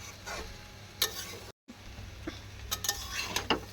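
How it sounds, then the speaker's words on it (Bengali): Chowmein fries in a pan with onion, dried and green chillies and whole cumin, a low sizzle broken by the clinks and scrapes of a utensil being stirred against the pan, with one short silent gap. "পেঁয়াজ, শুকনো লঙ্কা, কাঁচা লঙ্কা, গোটা জিরে দিয়ে চাউমিনটা ভালো করে ভেজে নেবো"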